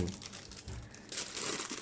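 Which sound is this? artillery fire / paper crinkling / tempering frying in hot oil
paper crinkling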